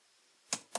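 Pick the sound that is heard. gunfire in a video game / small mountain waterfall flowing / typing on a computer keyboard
typing on a computer keyboard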